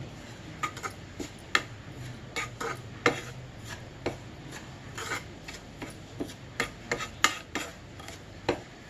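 Gram flour roasting in a pan for besan laddu, a spatula scraping and rubbing against the pan in quiet irregular strokes with sharp ticks.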